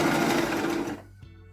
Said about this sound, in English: my needles line up with this little hole that's in my presser foot